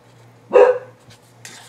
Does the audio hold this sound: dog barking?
yes